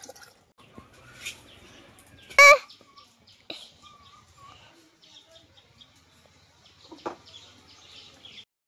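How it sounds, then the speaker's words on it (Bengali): Hungry chickens cluck and squawk around a yard, a sudden loud squawk partway through among scattered softer clucks and calls, with quiet stretches between. "মুরগিগুলা ক্ষুধা দৌড়াদৌড়ি করতেছে"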